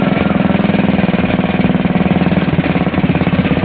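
Race car engine running at a steady loud idle, close by, with a rapid rough pulsing throb throughout and no talk.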